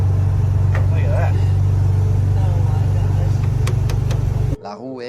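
Makeshift broken-down truck with a bare chassis, exposed engine and no cab, one wheel propped on a skateboard, driving along with a steady low engine drone under background voices, before cutting off abruptly near the end.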